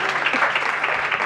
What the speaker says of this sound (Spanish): Podéis aplaudir, no os cortéis, faltaría más